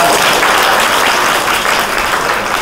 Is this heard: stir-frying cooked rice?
no